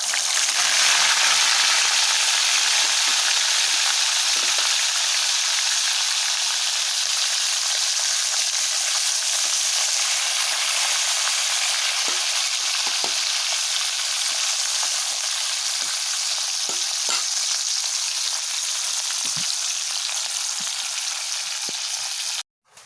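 Fish sizzles loudly in hot oil, a dense steady frying hiss with scattered crackles and spits that carries on without pause until it cuts off abruptly at the very end.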